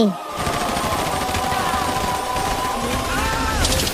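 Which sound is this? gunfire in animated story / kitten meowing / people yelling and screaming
gunfire in animated story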